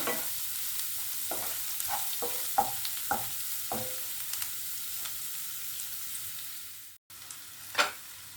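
Onions lightly frying in a pan for egg do pyaza give a steady close sizzle, broken by a run of sharp spatula scrapes and taps against the pan, a brief dropout and one louder clink near the end.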